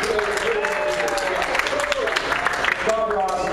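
Audience applause at a customer service talk by a motivational speaker, a moderate patter of clapping with a voice speaking over it.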